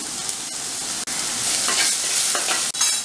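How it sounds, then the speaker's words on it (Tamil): Onions, green chillies, curry leaves and crushed garlic fry with popping mustard seeds in a pan, giving a continuous sizzle broken by a few stirring scrapes and brief clatters. "இப்போ கடுகு நல்லா பொரிய ஆரம்பிச்சிருச்சு கருவேப்பிலை இந்த வெங்காயமும் பச்சை மிளகாயும் போடுறேன்"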